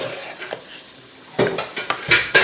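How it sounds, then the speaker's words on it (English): Cream sauce being stirred in a pan with salt and pepper, giving quiet scraping and swishing strokes that grow into several louder, closer clatters of the utensil against the cookware toward the end, with no talking. "Make sure you get all that cream sauce in there, stir it around evenly with that S&P"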